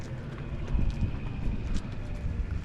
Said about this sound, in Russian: Коровенки.